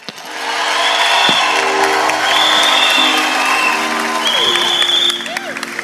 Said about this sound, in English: Ladies and gentlemen, make some noise. A round of applause for my brother and my friend.